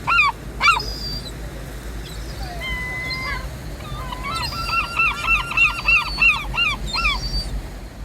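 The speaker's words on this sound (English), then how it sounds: "I want to get these ruddy gulls out of the way." Gulls calling nearby, a mix of single cries and a rapid run of repeated squawking calls, over steady outdoor background noise.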